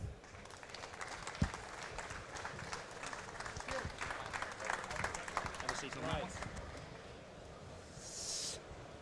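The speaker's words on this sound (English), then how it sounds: "Please put your hands together for Christian Horner." An audience at a motorsport show claps to welcome a Red Bull Racing team boss onto the stage, dense sustained applause from a crowd filling the hall, with voices mixed in and a brief burst near the end.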